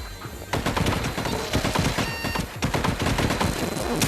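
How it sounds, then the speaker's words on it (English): Enemies open fire in the VR game Espire 1, a dense, close barrage of rapid gunshots and automatic bursts that rattles continuously for about four seconds after a brief quieter lead-in. "lots of people are shooting at me"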